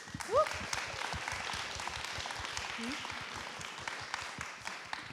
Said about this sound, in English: I really want to give them a round of applause